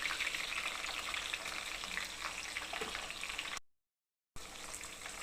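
Cumin and mustard seeds sizzle and crackle in hot oil with green chillies, a steady close frying hiss that runs throughout and cuts out briefly before resuming.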